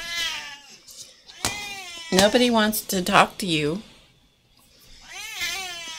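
A pet cat meows loudly and repeatedly indoors, with drawn-out, wavering cries near the start and again at the end, while someone talks over and between them.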